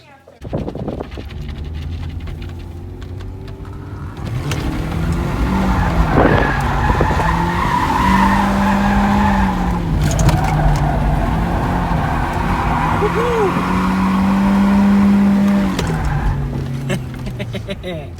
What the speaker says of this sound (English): Thought I'd hit up the good old drift spot before we got back.